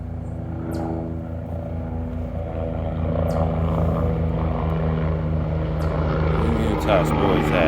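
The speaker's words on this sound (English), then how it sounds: "here comes a chopper low flying in" A helicopter flying low overhead gives a steady loud rotor and engine drone that swells slightly as it nears, with someone talking over it.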